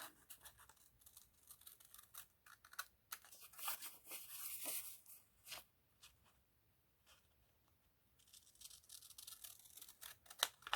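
Scissors snip paper pieces for craft card pockets in a repeated run of crisp cuts and paper rustles, close and fairly quiet, with pauses between bursts and no talk.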